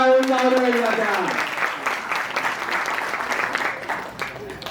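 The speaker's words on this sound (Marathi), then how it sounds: "आणि म्हणून त्या सगळ्यांसाठी जोरदार टाळ्या होऊन जाऊ." Loud applause from an audience at a road safety awareness event at a college, dense clapping that starts under a voice and continues steadily, tapering slightly toward the end.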